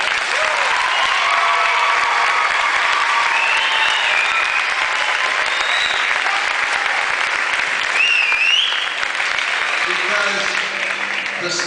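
An audience at a public event in Las Cruces with Governor Bill Richardson applauds and cheers for students: loud, sustained clapping and whoops from a large crowd, with shouts rising near the end.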